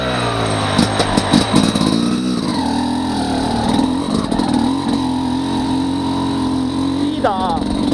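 A motorcycle fitted with a SmartCarb SC2 carburettor idles loudly nearby, then its throttle is blipped in a few quick revs before settling, with a person talking over the engine and a brief high whine near the end.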